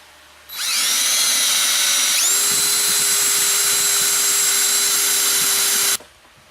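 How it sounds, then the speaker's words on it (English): A power drill bores a hole through a Jeep tube door for a latch mechanism, spinning up loudly and holding a steady high whine with a pitch drop partway through, then cutting off abruptly. "you're going to go ahead and drill that out"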